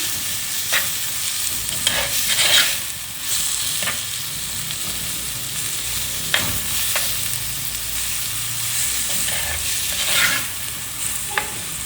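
Egg curry mixture with salt and tomatoes stirred in a frying pan, a steady sizzle under repeated scraping spoon strokes, close and without speech.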